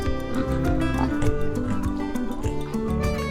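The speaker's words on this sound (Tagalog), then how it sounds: "Dumiretso kami sa native pig farm." Native pigs at a farm, loud overlapping grunts and squeals from a group in a continuous close chorus, with some background noise.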